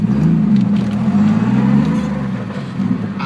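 A Datsun Z fitted with an RB30 engine idles close by with a deep, steady, lumpy rumble that holds without speech.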